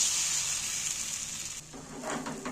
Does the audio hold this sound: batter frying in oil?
yes